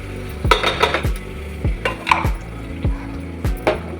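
A metal spoon stirs and scrapes a ginger, garlic and tomato paste sautéing in a pan, with about eight sharp clanks against the pan in an uneven rhythm over faint sizzling.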